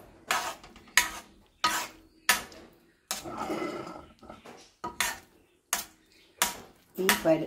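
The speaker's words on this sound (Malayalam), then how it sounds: "ഇങ്ങനെ പരുവാവുന്നവരെ ഇളക്കി കൊടുക്കണേ" A spoon scrapes and stirs a jaggery and ghee mixture in a pan while puffed rice is roasted, making loud, regular metallic strokes about every half second with no talking.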